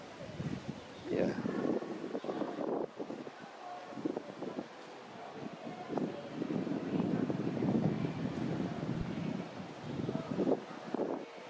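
Breezy, chilly wind gusts buffet the microphone while walking through Mazatlan Centro, a steady rough rush rising and falling throughout, with voices murmuring underneath.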